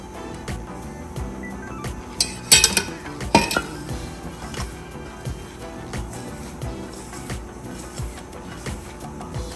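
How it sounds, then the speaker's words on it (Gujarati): Hands kneading flour dough with oil and ghee for Gujarati farsi puri, soft rhythmic slapping and squishing with occasional clinks of a metal bowl or dish. "આ રીતે લોટ બરાબર મિક્સ કરી દેવાનો છે."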